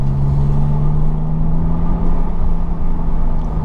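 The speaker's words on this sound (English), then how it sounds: "You have got a bit of burble." A 720 bhp TechArt Porsche 911 Turbo S gives a low, steady exhaust burble from inside the cabin, a loud, constant rumbling drone held for a few seconds with no voices over it.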